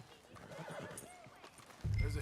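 A horse in a video game gives a whinny over low background noise, then heavier hoof thuds come in near the end, with a voice speaking quietly underneath.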